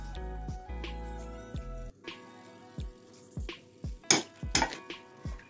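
A spoon scrapes and clinks against a pan while ground sesame powder is mixed into syrup for sesame laddoos and gajak, giving quiet intermittent knocks and scrapes with a couple of sharper metallic clinks.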